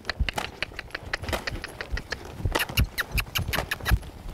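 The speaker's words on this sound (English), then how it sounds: "Move him out, pick him up to a lope." Hoofbeats of a ridden colt loping during its first saddling, a rhythmic three-beat clip-clop on soft ground with occasional thumps, moderately close and steady, no voices.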